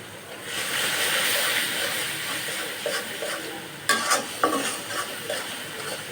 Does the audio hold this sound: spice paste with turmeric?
yes